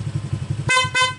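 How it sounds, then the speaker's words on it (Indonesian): A motorcycle horn triggered by a remote sounds twice in quick succession, two short loud honks over a low idling engine thrum. "Klakson tetap normal."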